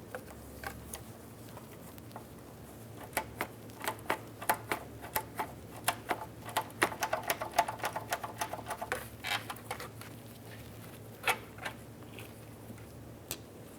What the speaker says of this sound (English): You're going to have to use a 10mm headed ratcheting wrench to remove this bolt.